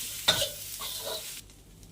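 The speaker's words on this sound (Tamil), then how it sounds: "தேங்காய் சேர்த்து ஒரு ரெண்டு பரட்டு" A brief stir of potato and coconut frying in a pan, with a scraping swish over soft sizzling that fades after a second or so.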